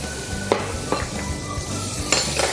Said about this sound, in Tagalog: You can start cooking the beef. Add some sesame oil on the pan.